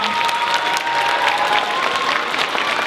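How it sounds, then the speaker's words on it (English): Dense, sustained applause from a crowd honoring students at an elementary school ribbon cutting, a steady wash of many hands clapping at once, fairly loud and continuous without a break. "Can we give them a round of applause?"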